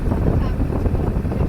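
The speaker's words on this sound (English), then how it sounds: "So this is a boat with crab pots on the top, and we think it was raking oysters as well" A motorboat loaded with crab pots passes on the water of the Intracoastal Waterway in South Carolina, its steady engine drone mixed with heavy wind buffeting the microphone throughout.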